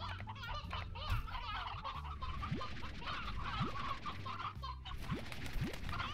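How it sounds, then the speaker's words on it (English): Hens and stony chickens in the video game Slime Rancher, a cluster of clucks and short honking calls repeating over a busy, steady game background, fairly close and continuous. "Get rid of the hens and the stony chickens."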